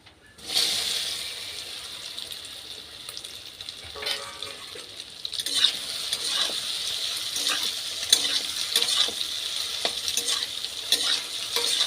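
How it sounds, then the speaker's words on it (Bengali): Soybean chunks fry in hot oil for a curry with egg, a continuous bright sizzle broken by repeated scraping and clinking stirs against the pan. "অয়েল সয়াবিনগুলো ভেজে নিচ্ছি"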